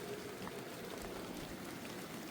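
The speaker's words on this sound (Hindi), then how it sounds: "और बाकी देखो बारिश भी आने लग गई है अब।" Rain falls steadily outdoors at a house hit by a landslide, a soft, even patter and hiss that holds at a low level with no talking.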